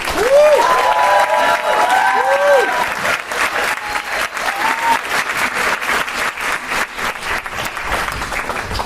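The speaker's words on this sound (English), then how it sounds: "And can we please give a massive round of applause?" A photography conference audience bursts into loud, dense applause that rings fully at first, then thins into scattered claps. A voice speaks and calls out over the clapping in its opening seconds.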